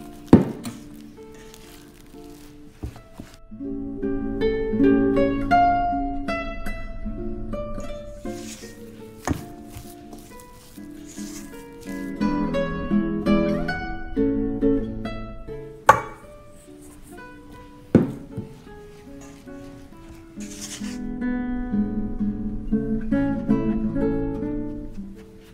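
Sticky rice flour is stirred gradually into mashed pumpkin, giving soft squishing and scraping sounds in uneven bursts with occasional sharper knocks against the bowl, while background music plays throughout.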